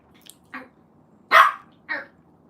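A dog barks several times at irregular intervals: a couple of softer yips, then one loud close bark and a final medium bark, over a quiet room background.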